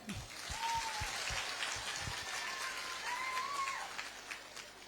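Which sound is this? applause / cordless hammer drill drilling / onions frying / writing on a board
applause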